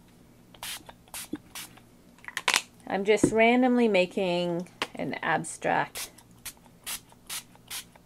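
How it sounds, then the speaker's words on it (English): Short hissing bursts of a spray bottle misting ink onto paper, several quick pumps scattered under someone talking steadily close by. "So you start by spraying your background"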